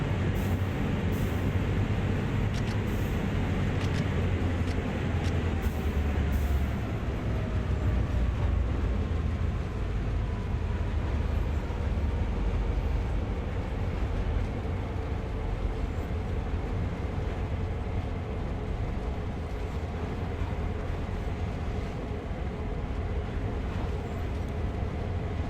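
A train on the Peninsular Corridor in the Train Sim World video game accelerates, producing a loud, continuous rumbling drone with faint rising mechanical tones throughout.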